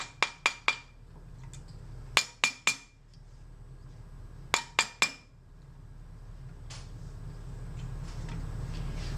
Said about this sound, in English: I'm going to start to form the piece. And so I'm hitting the actual mandrel.